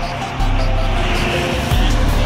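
An NPM long-distance bus overtakes a line of cars on a Trans-Sumatra road, its engine droning low and loud, then stepping up in pitch and power twice as it accelerates past, with steady road noise underneath.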